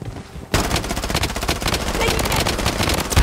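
Rapid automatic gunfire from the Blood Strike mobile shooter, erupting in loud, dense sustained bursts after a brief quiet start and continuing without pause to the end.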